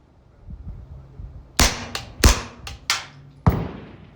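A suppressed B&T APC9 pistol-caliber carbine fitted with a forced-reset trigger fires five or six sharp, close shots in an irregular quick string, each a crisp crack with a short ringing tail.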